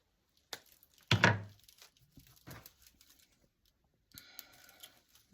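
A taut cord is trimmed while a whisk broom is handmade from turkey wing feathers, giving a few sharp snips and clicks with quiet handling noise between them and a soft rustle near the end.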